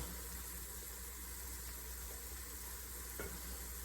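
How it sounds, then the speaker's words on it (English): Roux sizzling in a pan while cooking fish couvion with tomato gravy, a faint, steady hiss that holds evenly with a small tap near the end. "Okay, now we're going to come in with the roux."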